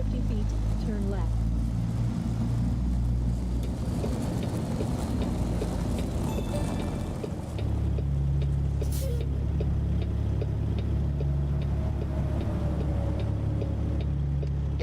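Straight-piped X15 truck engine in American Truck Simulator, a loud, steady, low diesel drone that shifts to a deeper, rumbling tone partway through, with faint ticking beneath it.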